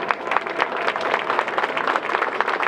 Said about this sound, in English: Big round of applause for Eddie Lopez.